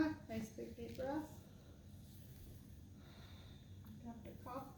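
A patient takes faint, deep breaths during a lung auscultation in a head-to-toe assessment, with soft airy inhales and exhales heard quietly, alongside brief talk.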